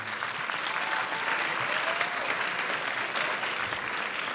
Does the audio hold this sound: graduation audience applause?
yes